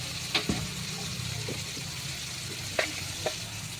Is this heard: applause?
no